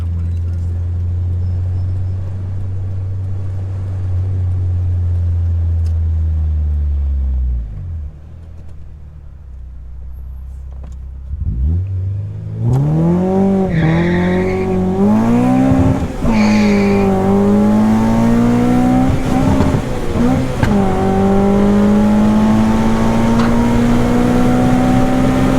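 A Mk2 VW GTS race car with a 16-valve turbo engine idles low, cuts out, then roars back and pulls hard through first gear with rising revs and tyre squeal, loud and close.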